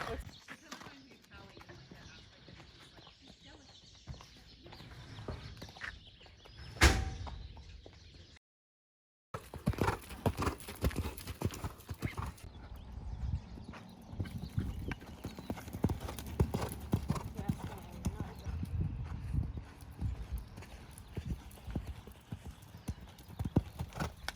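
Horse hooves clip-clopping as a horse is loaded into a trailer at a barn, irregular hollow thuds and scrapes on the trailer floor, with a brief pause mid-way; people talk nearby and a chicken clucks faintly.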